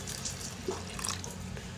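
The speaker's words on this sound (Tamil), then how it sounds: "இப்போ இது எல்லாத்தையும் கொஞ்சம் தண்ணி ஊற்றி மிக்ஸ் பண்ணி விட்டுக்கிடலாம்." Water is poured into ground corn dosa batter mixed with dill greens, a steady close trickling and splashing that runs through the whole short stretch with no talk.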